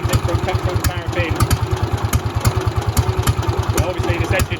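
A JAP Model 55 stationary engine runs on petrol with a steady, rapid thumping beat, close and loud, with a mechanical clatter on top.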